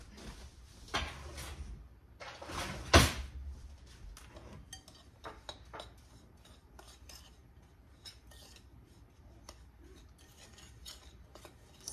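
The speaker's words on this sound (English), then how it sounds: "Let's stir this up." A spoon scrapes and clinks against a pot while seasoned food is stirred, close and fairly quiet, with a few sharper metallic knocks early on and softer scraping after.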